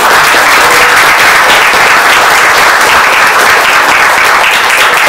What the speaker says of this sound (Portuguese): Salve de palmas, vereadora.